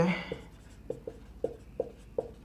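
Marker or chalk writing math on a board during a matrix lesson: a short scribble, then a series of distinct taps and strokes at a steady pace, close and fairly quiet.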